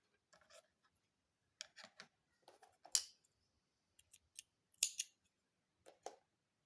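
Scissors snipping crochet yarn, a series of short, crisp snips in small clusters spread over several seconds, close and quiet against a silent background.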